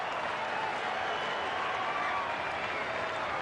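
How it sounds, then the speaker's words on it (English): A rugby league stadium crowd roars and applauds in a steady, loud wash of cheering and clapping, with a commentator speaking over it. "The crowd goes mad."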